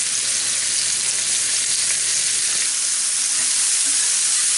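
Mushrooms browning in a hot pan with pork chop drippings, a loud, dense, continuous sizzle and crackle close up, with faint stirring and no voices.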